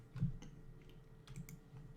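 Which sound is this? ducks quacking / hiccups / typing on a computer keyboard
typing on a computer keyboard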